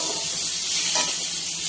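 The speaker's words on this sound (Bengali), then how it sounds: "ভাজাটা একটু নাড়তে হবে।" A fry is stirred in a hot pan, with a constant bright hiss and sizzle and a soft scrape partway through, close and fairly loud.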